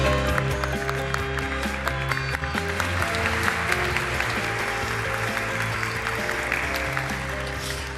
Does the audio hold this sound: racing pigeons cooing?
no